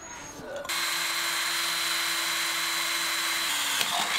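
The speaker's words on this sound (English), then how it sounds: "now we gotta drill this" A power drill bores into a fire extinguisher, whirring steadily at close range for several seconds after a brief start, its motor tone holding constant before winding down near the end.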